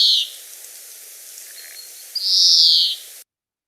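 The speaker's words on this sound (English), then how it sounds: "it has a very nasally call, which sounds like someone has pinched its beak and it's moaning in" Two nasal, buzzy calls from a greenfinch, a short one at the start and a longer drawn-out wheeze near the end, clear and fairly close against a quiet outdoor background.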